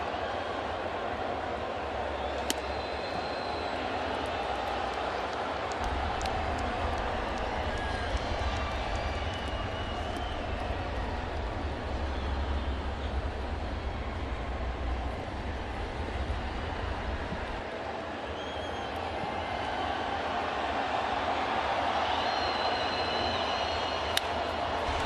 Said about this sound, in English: Small crowd, but making some noise with the roof closed here at Lone Depot Park.